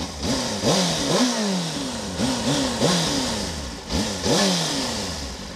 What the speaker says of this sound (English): I'll give it a couple revs